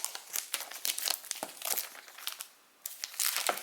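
Plastic wrapping on an iPhone 12 box being peeled open, a close series of crisp crinkles and short tearing rips with a brief pause midway.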